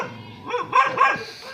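A dog barks a few times in quick succession, close and fairly loud, with a slightly whiny, yipping edge.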